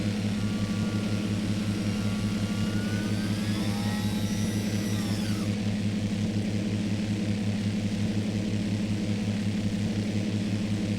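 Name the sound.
small aircraft engines at full power during takeoff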